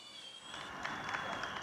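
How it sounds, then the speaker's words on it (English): Crowd applause for healthcare workers, a dense, steady patter of many hands clapping that holds at an even level for the whole stretch without a clear voice on top. "along with regular applause for healthcare workers in many countries"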